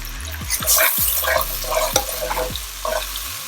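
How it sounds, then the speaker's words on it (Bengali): Water poured into a pan of frying onions sets off a loud sizzle and bubbling, with repeated splashes and stirring scrapes close by and no talking. "পেঁয়াজ ভাজা হয়ে গিয়েছে এবার একটু পানি দিয়ে দিচ্ছে ব্লেন্ডার জারটা ধুয়ে পানি দিলাম"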